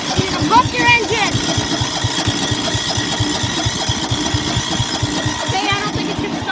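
A lawnmower engine cranks repeatedly without starting while being started with no battery, a loud rapid chugging rhythm running continuously throughout.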